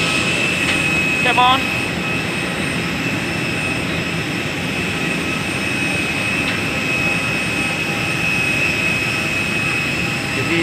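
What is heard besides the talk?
jet aircraft engines at Syamsuddin Noor airport, Banjarmasin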